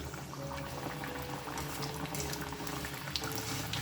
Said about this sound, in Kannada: ಸೊ ಇದನ್ನು ನಿಧಾನಕ್ಕೆ ಮೀಡಿಯಮ್ ಫ್ಲೇಮಲ್ಲಿ ಕರ್ಕೋಬೇಕು